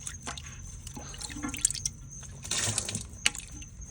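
Water being soaked up from a toilet tank while a fill valve is replaced, heard as faint irregular drips, squishes and small liquid splashes close by, with quiet gaps between them.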